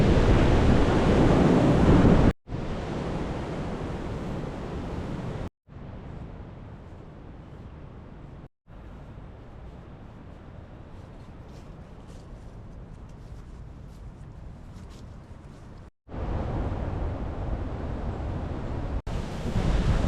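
Rough sea and strong wind on the coast at Dunwich, a continuous roar of surf with heavy wind buffeting the microphone, loud and steady across a long stretch with abrupt level jumps between cuts.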